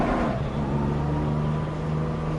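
BMW car engine in a racing video game, heard from the cockpit as a steady, loud drone that holds throughout with no break.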